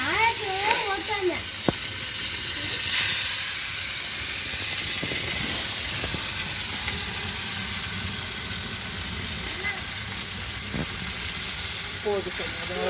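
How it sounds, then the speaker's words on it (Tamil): Fish frying on a tawa over a wood-fired brick rocket stove outdoors at night gives a steady, hissing sizzle that runs throughout. People talk intermittently over it, with a few sharp clicks and clatters. "வெளியே வாசல்ல எல்லாம் அடுப்பு கூட்டி நாங்கள் தவா ஃப்ரை பண்ணுறோம்"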